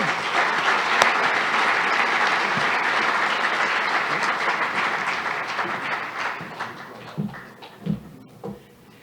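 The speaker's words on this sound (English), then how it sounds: "A big round of applause for our MC this evening, Victoria Sanchez de Alba." An audience at a university speaker-series evening event applauds the MC, with a full, steady wave of clapping that thins over the last few seconds into scattered claps and a few dull thumps.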